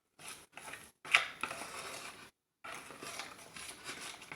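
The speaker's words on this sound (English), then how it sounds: "just keep stirring around until you get that clumping happening" Thick homemade playdough mixture is stirred in a pot, giving short scraping and clumping bursts that turn into a continuous dragging, stirring sound after a brief pause, close and fairly soft, with no talking.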